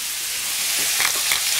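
Ground meat for chili con carne frying in a hot pan with black pepper, a steady close sizzle that swells with a few louder crackling bursts toward the end, no talking.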